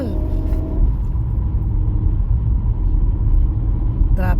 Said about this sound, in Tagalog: Traffic sa kabilang kalsada.